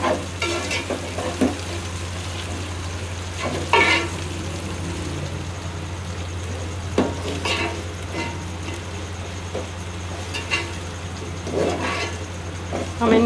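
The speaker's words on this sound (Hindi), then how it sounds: "हम इनको 2 मिनट तक फ्राई करेंगे।" Whole spices frying in hot oil in a pan for beef yakhni pulao, a continuous crackling sizzle with periodic scraping stirs every few seconds under a steady low hum.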